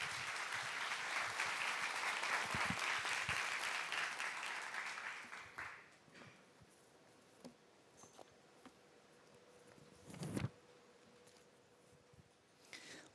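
A church congregation at a young adults' worship gathering claps to welcome a pastor to the pulpit, with dense applause lasting about five seconds before fading into a quiet room with scattered small knocks and shuffles.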